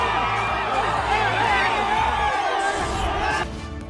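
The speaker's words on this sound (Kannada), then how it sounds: "ತಲೈವಾ ತಲೈವಾ ಅಂತ ಫ್ಯಾನ್ಸ್ ಜೈಕಾರ ಕೂಗಿದ್ದಾರೆ." Crowd of Rajinikanth fans cheering and shouting as he greets them from his car's open sunroof, a continuous loud roar of voices with whoops throughout.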